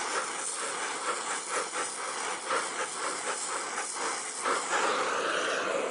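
A cutting torch preheats thick steel with a steady, close roaring hiss that carries a faint fluttering pulse and swells a little louder near the end, with no voices.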